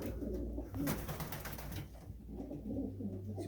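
Several pigeons coo steadily inside a racing pigeon loft, their low, overlapping calls forming a continuous murmur close by throughout, with no talking.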